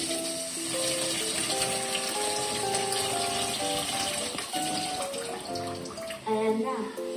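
Water poured onto rice in a pot before it goes into a rice cooker, a steady splashing pour under background music that keeps going throughout.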